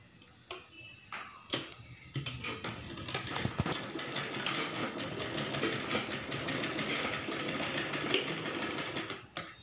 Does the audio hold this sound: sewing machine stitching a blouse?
yes